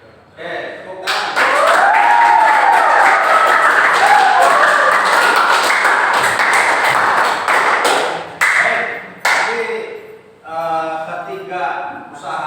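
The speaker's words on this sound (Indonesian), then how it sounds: "Tepuk tangan." Sustained applause from a classroom or school audience, a dense wash of many hands clapping that fills most of the clip at close range, fading out near the end as voices take over.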